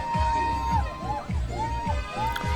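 A crowd in the streets of Iran cheers and shouts in celebration. Many voices rise and fall together in loud, repeated bursts of yelling and whooping.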